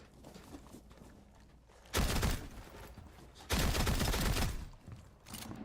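Video game gun firing two sustained bursts of rapid automatic fire to check its recoil, each lasting over a second, with a shorter burst at the end.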